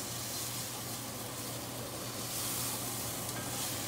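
Onions caramelizing in a cast iron pan give a steady, close sizzle with soft stirring scrapes, continuous and even throughout, with no talking.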